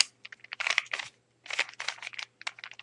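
A 3x3 Rubik's cube is twisted quickly by hand to scramble it, giving close, rapid bursts of plastic clicking and clacking in short uneven runs with a brief pause in the middle.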